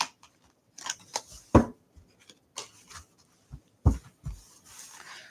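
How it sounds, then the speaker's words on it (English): A tarot deck is shuffled by hand in close, quiet, irregular bursts of card riffling and sliding, with a few sharper snaps between softer rustles. "let's shuffle these in"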